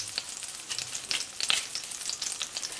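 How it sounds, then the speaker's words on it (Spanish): Onion sizzling as it fries in hot lard for refried beans, a steady crackling hiss with scattered pops, close and continuous with no one talking. "A esta manteca le vamos a sofreír un pedazo grande de cebolla"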